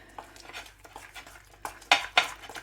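Milk being mixed into a cake topping in a bowl, a series of irregular scraping and clinking strokes, close by, with the last few louder.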